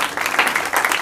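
Audience applause for a member of parliament arriving at a business association gathering, a brief, even wash of many hands clapping across a crowded hall.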